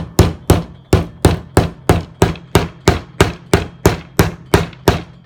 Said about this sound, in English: With the hammer, so it starts to get flat.